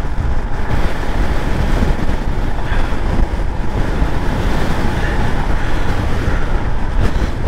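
Strong wind roars against a microphone during a motorcycle ride over Applecross Pass, a dense, steady buffeting noise that stays loud throughout with no voices.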